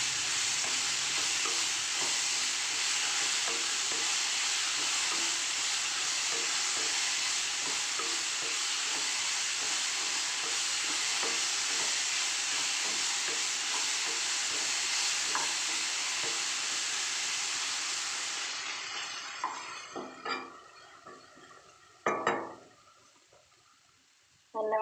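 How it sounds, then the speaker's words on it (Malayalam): Ripe banana pieces sauté in ghee, a steady close sizzle running for most of the time, then fading into a few sharp stirs and clinks near the end. "ഈ നെയ്യിലേക്ക് പഴം എടുത്തിടുന്നുണ്ട്. അപ്പോൾ നല്ലവണ്ണം ഇതിൻ്റെ അകത്തുനിന്ന് ഒന്ന് വഴറ്റിയെടുക്കാം."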